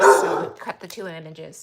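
Playful dogs let out a sharp bark at the start, then whining yips, while someone talks over them indoors.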